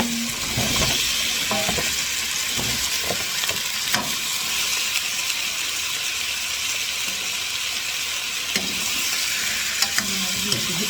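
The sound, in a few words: pork ribs being stirred with tomatoes in a pan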